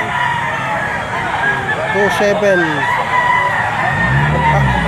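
Roosters crow amid a crowded chicken auction market in Lipa, a drawn-out crow rising mid-clip over constant chatter, with another bird calling near the end while someone talks throughout.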